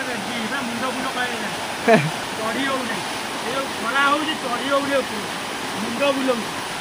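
Ashokjhar waterfall in Jajpur pours in a steady, broad rush of falling water, with people talking intermittently over the constant roar throughout.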